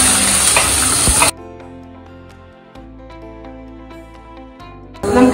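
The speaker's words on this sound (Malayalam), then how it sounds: "നമുക്കിനി കടുക് പൊട്ടിക്കാം കടുക് മറ്റൽ മുളകും പൊട്ടിക്കാം" Mustard seeds and dried red chillies crackling in hot oil for a chicken thoran: a loud, busy sizzle at the start that breaks off into a quieter tonal stretch, then returns at the end.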